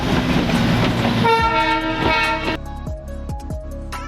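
Darjeeling Himalayan narrow-gauge toy train running, loud and close: a sustained horn blast opens, then rhythmic clickety-clack of wheels over rail joints continues steadily.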